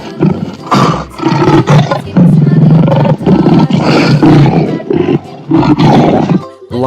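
Lion roaring loudly and close, several deep, rough roars in quick succession with brief breaks between them, filling the whole stretch.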